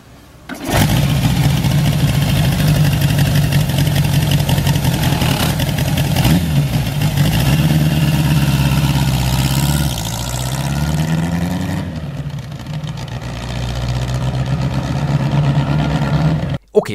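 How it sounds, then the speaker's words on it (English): A square-four motorcycle engine runs with a steady, throaty exhaust note that holds evenly and briefly dips and rises in revs midway, loud and close, with no talk over it. "the different anatomy of the square 4 forces a different exhaust pipe configuration, giving the square 4 a very interesting soundtrack"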